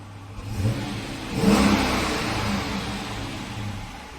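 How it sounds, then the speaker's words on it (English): A V6 Dodge Charger engine revs up once, a brief surge rising around the middle, then settling back to a steady idle rumble, close by with no talking. "let's give it a few revs"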